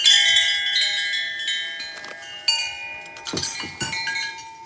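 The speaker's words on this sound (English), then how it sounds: "how cute is this little rooster wind chime set right here?" Light metallic chimes tinkle and ring with lingering tones, struck irregularly in small clusters, close by, with no talking.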